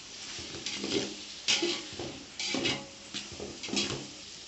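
Cut drumsticks are stirred in a pan for an eggplant and salt fish curry, with a few scraping clatters of a utensil against metal over a soft frying hiss, close and without speech.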